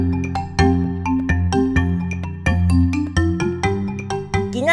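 Several telephones ring in a television studio, their bright electronic trills repeating in quick overlapping bursts, loud and close, with no one speaking.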